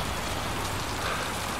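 Steady video game rain pours as a dense, even hiss across the whole stretch, with a faint low rumble beneath and no voices.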